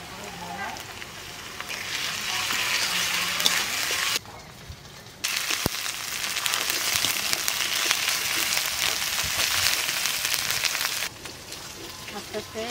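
Onion fries with ginger-garlic paste and green chilies for an egg curry with potatoes. A dense, crackling sizzle drops out briefly twice before it returns, heard close up.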